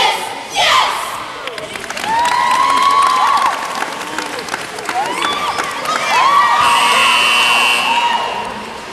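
High school boys' basketball crowd in a gym cheering and yelling loudly in swelling waves, with shrill whoops and a chanted shout rising over the steady roar, close and continuous.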